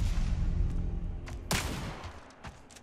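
Pistol gunfire in the shooter game Spectre Divide: a single sharp shot cracks out amid faint background game noise, fairly quiet overall.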